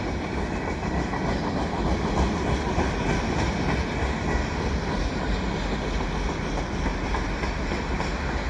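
Rebuilt QNS&L AC4400CW diesel locomotives passing in winter at Valois, a loud, steady rumble of engines and rolling wagons with continuous wheel clatter holding at close range throughout.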